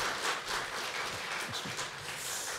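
A church congregation at a training service opening worship claps together in welcome, a dense, even spatter of applause from a gathered group, fairly soft and steady throughout.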